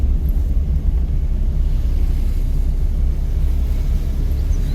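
A car engine held at steady revs while the clutch is let out slowly, a loud continuous low rumble that stays even throughout with no pause.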